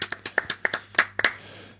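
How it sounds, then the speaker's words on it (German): A small group clapping hands briefly on a German talk show, about ten sharp, close claps in a quick irregular burst lasting under two seconds, then fading. "da klatschen wir nochmal ganz kurz"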